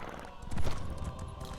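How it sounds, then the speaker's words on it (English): A horse in the Elder Scrolls Online video game clip-clops at a steady trot, its hoofbeats close over a dense game soundscape. "there's my horse. My trusty steed."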